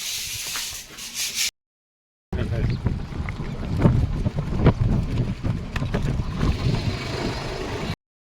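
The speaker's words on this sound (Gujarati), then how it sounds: "એટલો મસ્ત મસ્ત ઠંડો પવન છે કે વાત પૂછો" Cool wind blows through an orchard, a steady rough rushing with microphone buffeting that starts after a short cut and runs unbroken for several seconds.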